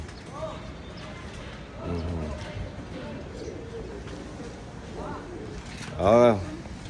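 Pigeons coo in several soft bursts, the loudest near the end, with someone talking around them in a pigeon loft.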